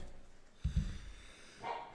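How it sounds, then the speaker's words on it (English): A dog barks a couple of quick times at moderate distance, followed by a faint higher yelp, over quiet background noise. "Here the dog's barking."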